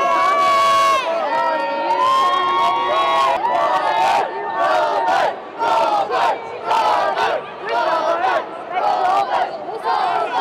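A large crowd of AFL supporters at a football game cheers and screams loudly and continuously, massed voices rising and falling in waves close by.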